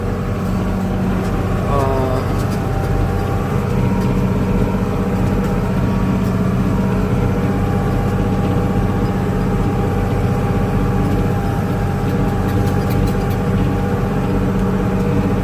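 A tractor engine pulling a 3-metre, 3-tonne disc harrow drones steadily and loudly throughout, a constant low rumble, with faint voices partly buried beneath it.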